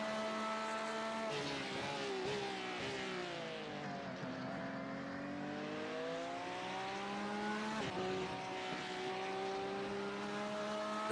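A Lamborghini GT3 race car engine in the Racing Unleashed game at Hockenheim drones continuously, with pitch rising and falling through gear changes as it drives a lap, heard at moderate distance.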